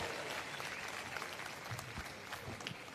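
Audience at a Vanchit Bahujan Aghadi rally in Kolhapur breaks into sustained applause, a dense wash of many hands clapping steadily at moderate distance, with no speech over it.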